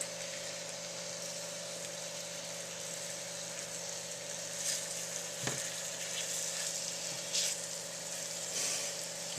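Beef cubes sizzle in a hot pan, a faint, steady crackling hiss beneath a constant low hum, with a few slightly louder pops along the way.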